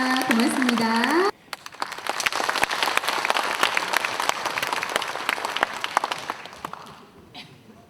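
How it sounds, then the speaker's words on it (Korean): Warm audience applause at a Korean War anniversary memorial ceremony in Cheonan, dense clapping that begins after a brief spoken line and gradually thins out toward the end. "여러분 따뜻한 박수 한번 부탁드리겠습니다"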